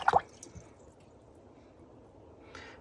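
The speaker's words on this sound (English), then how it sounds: "splatter." A wet brush loaded with clean water and Neocolor paint is flicked to splatter. A sharp wet burst comes at the start, a few small drips follow, and a faint spray returns near the end with quiet between.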